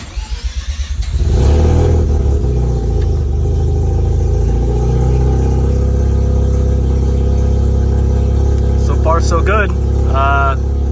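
A turbocharged rotary engine in a Mazda RX-7 cranks with a few rhythmic turns, catches and settles into a loud, steady, droning idle that fills the whole clip close up, with someone speaking briefly near the end.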